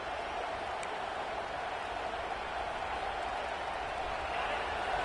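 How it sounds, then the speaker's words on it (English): A stadium crowd at a football game roars in a steady, continuous wash of cheering that sounds fairly distant and holds an even level throughout. "This crowd, full throat, splitting the eardrums"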